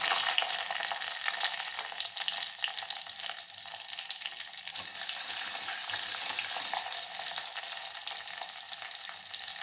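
Curry leaves, green and dried chillies and ginger fry in hot oil after mustard seeds have popped, making a soft continuous sizzle and crackle with faint stirring and no talk.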